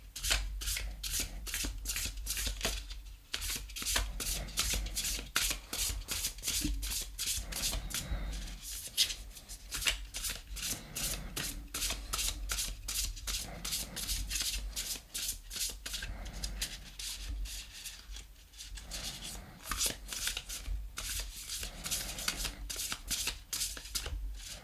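Tarot cards from the Mysteries of the Black Madonna deck being shuffled continuously, a steady run of crisp riffling and sliding strokes close up for the whole stretch, with no talk over it.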